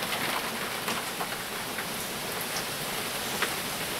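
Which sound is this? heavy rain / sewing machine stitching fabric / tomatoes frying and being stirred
heavy rain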